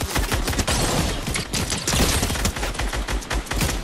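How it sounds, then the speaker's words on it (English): Dense rapid gunfire fills a multiplayer shooter match, bursts of shots crackling continuously and loudly without pause, close and overlapping like several weapons firing at once. "somebody else is shooting at me"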